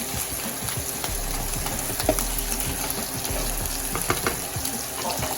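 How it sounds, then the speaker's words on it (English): Corned beef hash fries in a pan with a steady, close crackling sizzle, broken by a few utensil scrapes and taps and no talking. "So we're gonna let it fry."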